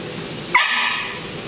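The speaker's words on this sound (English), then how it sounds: "Even my dogs here are really excited" A pet dog excited by the smell of cooking pasta in a home kitchen lets out one short, high whining yelp midway through, close by, against a quiet room.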